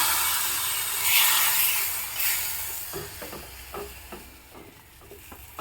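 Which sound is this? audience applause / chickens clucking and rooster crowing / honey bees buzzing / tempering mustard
tempering mustard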